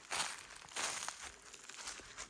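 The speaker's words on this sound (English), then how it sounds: "that's the tripod making noise there" Faint crinkling and rustling with soft creaks from a tripod outdoors in Alaska, close by and irregular, with no talking.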